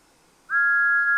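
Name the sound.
Thomas the tank engine's steam whistle toot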